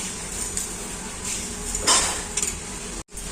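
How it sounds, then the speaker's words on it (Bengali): A spoon scrapes and clinks against a pot while mango rice pudding (payesh) is stirred, with a few brief metallic knocks and a steady background hiss. Nobody speaks. "ভালো করে একটু মিক্স করে একটু জাল দেবো।"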